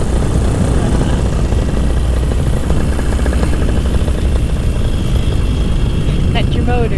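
A paramotor engine drones steadily and loudly during a sunset flight, a constant propeller roar mixed with wind buffeting across the whole stretch, with no words spoken.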